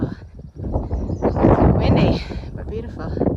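Strong wind buffeting at a mountain viewpoint along a long-distance hiking trail, a loud rough rush that swells and gusts across the whole moment.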